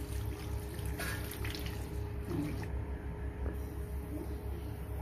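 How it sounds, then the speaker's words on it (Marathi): Water is poured into frying spice masala in a pan while cooking dal vadi curry, giving a steady, moderately loud rushing and gurgling splash that lasts throughout. "पाणी टाकून घेते मसाल्यामध्ये"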